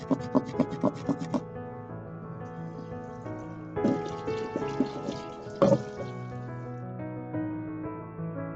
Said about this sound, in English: I'm going to wash this other brush now. I'm going to put some soap.